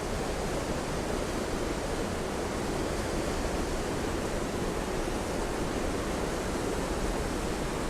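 Waterfall at Linton Falls weir on the River Wharfe, a steady broadband roar of rushing water, loud and close, unbroken and alone for the whole stretch.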